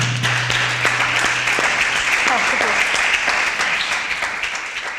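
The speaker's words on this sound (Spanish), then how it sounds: "primero vamos a darte un fuerte abrazo y con un aplauso muy grande." An audience at a gathering with women human rights defenders breaks into dense, sustained applause that is loud and steady throughout, with voices mixed in and a slight fade near the end.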